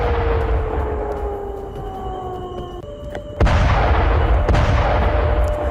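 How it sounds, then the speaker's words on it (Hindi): Descending whistling tones over a rumbling background, then a sudden loud blast followed by continuous heavy booming and crackling at an airbase after a drone attack, with another sharp report soon after. "ड्रोन अटैक के बाद एयरबेस पर हुए विस्फोट की फिलहाल ये"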